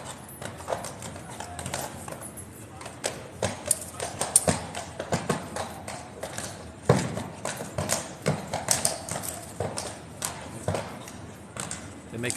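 Horse hooves clip-clop on pavement at Horse Guards in London as a restless King's Guard mount shifts and turns, with irregular close hoof strikes and crowd noise around it.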